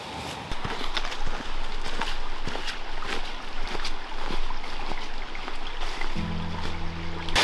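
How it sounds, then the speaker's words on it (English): Angel Falls, a 50-foot cascading waterfall along a forest trail, pours as a steady, close broadband rush that holds evenly throughout, with a faint low tone entering near the end. "So we've made it to the first waterfall on this trail, which is Angel Falls right behind me. It is a 50-foot cascading waterfall."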